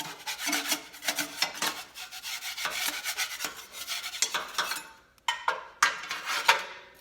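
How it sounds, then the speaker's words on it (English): A scraper rasps at deposits inside an Englander pellet stove in repeated close, rough strokes, with a brief pause before the scraping resumes. "So I can start by scraping some of this stuff off of here."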